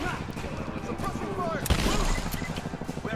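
Rapid weapon gunfire from the video game Rise of the Tomb Raider, a dense burst of shots mixed with game effects and a voice talking over it throughout.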